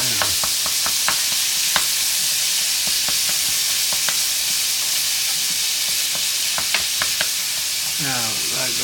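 Homemade spaghetti sauce sizzles steadily in a pan as it cooks down, a close, continuous frying hiss broken by scattered clicks and light utensil taps, with a brief rising squeak near the end.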